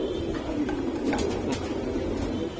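An imported foreign racing pigeon at a racing loft coos in a low, steady, continuous murmur, close and fairly loud, with no one speaking.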